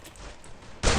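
A single sharp burst of gunfire in a shooter video game played in an emulator championship match, cracking in loudly after a quiet stretch of low game ambience.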